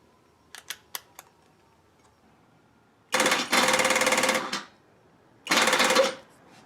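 A BMW R90/6 motorcycle engine cranks over on a weak battery: a few faint clicks, then two loud, labored starter grinding bursts separated by a pause, without the engine catching.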